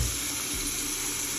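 Hot tap water runs steadily into a sink while a makeup brush is rinsed, a close, constant rushing stream with a brief low splash partway through and no talk over it.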